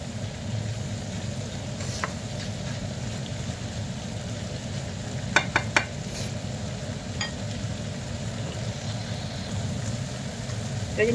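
Holy basil stir-fried in a pan for pad kaphrao, a steady low sizzle with a few sharp clinks of the spatula, close and continuous.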